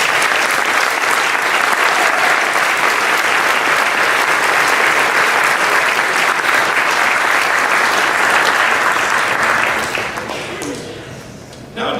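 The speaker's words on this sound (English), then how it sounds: "How about a round of applause for these students?" A concert audience at a spring band concert gives the band students a loud, sustained round of applause, with dense clapping that holds steady and then fades toward the end.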